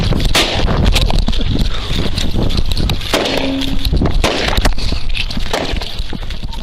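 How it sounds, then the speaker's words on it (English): Gunfire in an ambush on a sheriff's deputy who has just stepped out of his patrol vehicle at a roadside stop, loud and chaotic over roaring wind and bodycam handling noise. "Deputy Hutton was ambushed and shot within seconds"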